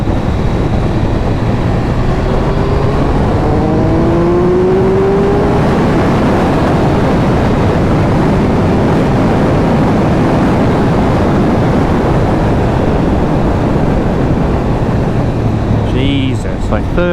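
A Triumph Speed Triple 1200 RR motorcycle accelerating hard: a loud, continuous engine roar close to the rider, with rising harmonic sweeps in the first seconds as revs climb, then a steady dense rush of engine and wind noise.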